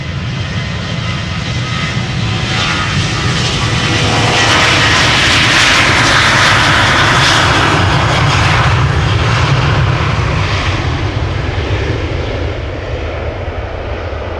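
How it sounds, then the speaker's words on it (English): A KLM jet airliner departs Amsterdam Schiphol, a loud, close, continuous engine roar that swells to a peak in the middle and eases slightly as it climbs away. "This is KLM flight 1219 going to Stockholm."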